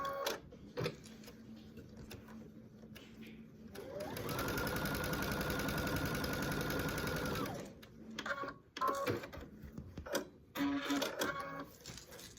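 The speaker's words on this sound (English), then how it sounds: "I'm going to sew from here to here" A sewing machine runs steadily for a few seconds while stitching quilt strips together, a fast mechanical whir and rattle, with quieter handling clicks and fabric rustling before and after.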